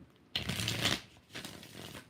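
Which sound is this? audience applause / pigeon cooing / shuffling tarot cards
shuffling tarot cards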